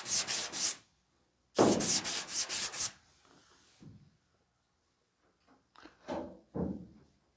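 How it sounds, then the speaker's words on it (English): Body filler on a 1988 Ford truck cab is hand sanded with 220 grit paper on a hard block: close bursts of rhythmic rasping strokes, a quiet pause, then a few lighter passes. "I'm going to switch to 220 and hand sand the rest of this so that I don't over sand it"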